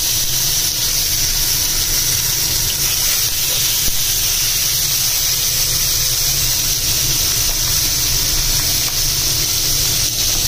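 Fish frying in a hot frying pan over an LP gas stove, a loud, steady hiss of oil sizzling continuously throughout.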